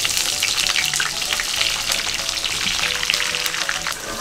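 Eggplant pieces shallow-fry in hot oil, a loud, dense, continuous sizzle with crisp popping and spitting throughout, close by and with no talking.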